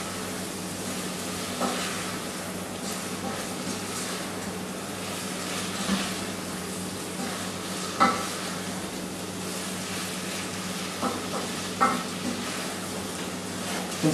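Pre-cooked okra (lady's finger) stirred into a sizzling masala of oil, ginger, garlic and salt for curd curry, with a steady close frying hiss and occasional sharp scrapes of the spoon against the pan.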